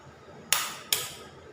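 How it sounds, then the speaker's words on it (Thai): Two sharp cracks of eggs being knocked open for a stir-fried Mama instant noodle dish, each a crisp tap with a short fading tail, spaced about half a second apart in a quiet kitchen. "เราตอกไข่ไว้เลยนะเตรียมไว้"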